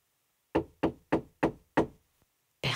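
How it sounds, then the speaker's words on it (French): Five sharp knocks strike a door in quick, even succession, loud and close, followed by a short pause and another burst of sound at the end. "Il frappe."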